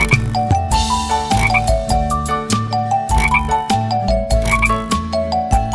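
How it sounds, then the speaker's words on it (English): A cartoon frog in a nursery rhyme croaks again and again in a bouncy rhythm, loud and up front, blended with playful music and no speech. "A frog jumped on the clock."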